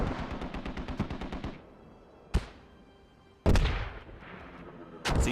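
Vehicle gunfire in Foxhole: a rapid machine-gun burst of about a dozen sharp shots, then a lone loud bang and two heavy blasts, each trailing off, close and loud.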